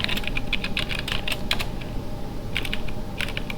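Quick, irregular clicks of fingers typing on a computer keyboard, close and clear, in short bursts separated by brief pauses over a low background hum.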